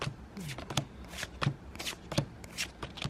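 Pokémon trading cards are handled and shuffled up close, a series of quick crisp riffles and flicks in an irregular rhythm, fairly soft.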